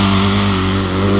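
A dirt bike engine drones loud and close at a steady high pitch as it accelerates toward a jump, one continuous sustained roar with no voices.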